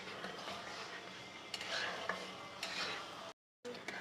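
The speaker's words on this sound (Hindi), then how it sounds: "चम्मच चलाते रहे मुसलसल" A spoon scraping and stirring semolina halwa as it roasts in a pan, with soft continuous scraping, light clinks against the metal and a faint sizzle underneath, all quiet and close.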